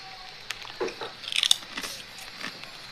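Crunchy fried chips are bitten and chewed up close, with a few crisp crunches clustered in the middle of an otherwise quiet moment, no talking.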